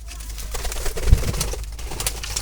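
Black Jalali pigeon chicks kept in a basket give soft, low coos amid steady low rumbling background noise.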